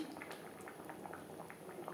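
Fish curry with bean seeds bubbling in gravy, a soft close stream of small pops and blips, faint and continuous.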